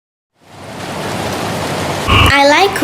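Rain falls as a steady hiss that rises in after a moment of silence, ending with a short burst of another sound on top.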